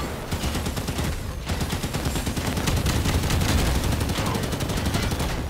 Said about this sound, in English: I'm shooting their ghost.